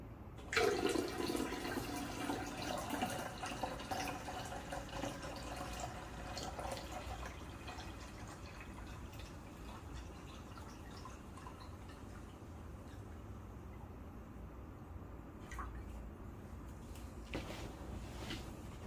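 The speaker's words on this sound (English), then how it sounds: "let's now top it up with water" Water pours steadily from a 1.5-liter bottle into the reservoir of a VBM Domobar Super Elettronica dual-boiler espresso machine for nearly twenty seconds, a soft continuous splashing and trickling close by with a louder start.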